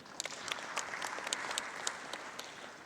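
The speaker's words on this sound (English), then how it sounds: "Let's give our presenters another round of applause." An audience applauds the presenters during a live-streamed event: fairly faint, steady clapping from a modest crowd, with a few sharper individual claps standing out, continuing evenly without speech.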